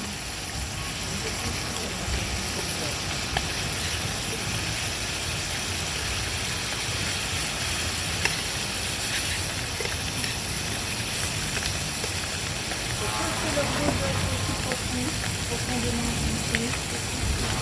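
Abalone searing in a hot pan, a steady, dense sizzle holding evenly throughout with a slight swell near the end.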